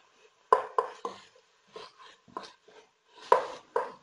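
Golden onions are stirred and flipped in a pan for a Basque-style chicken dish: a handful of sharp utensil scrapes and knocks against metal come in irregular bursts, close and fairly quiet, with faint sizzling between them.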